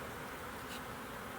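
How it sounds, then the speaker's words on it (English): A dense, steady hum of many honeybees buzzing close by around an opened hive, continuous and unbroken, with no voices. "I have disturbed the hive and I don't want to get stung."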